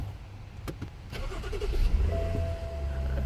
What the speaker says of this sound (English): So now I'll start the vehicle.